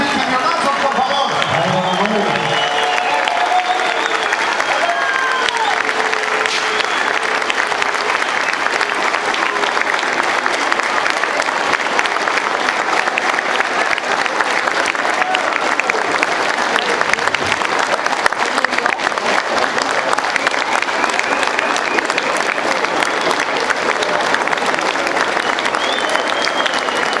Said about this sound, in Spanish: Un aplauso para Jairín, un minuto de aplausos y cañonazos, por favor.